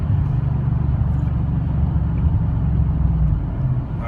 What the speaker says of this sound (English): I'm going to shift to 5th gear.